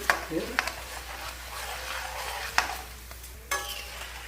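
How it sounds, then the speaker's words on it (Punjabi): Ingredients dry-roasting in a pan are stirred continuously, giving a soft, steady scraping hiss broken by a few louder knocks of the utensil. "ਲਓ ਜੀ ਆ ਭੁੰਨ ਲਿਆ ਆਪਾਂ ਨੇ ਇਹਨੂੰ"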